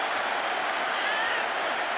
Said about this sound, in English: Claude Gord comes back to milk the applause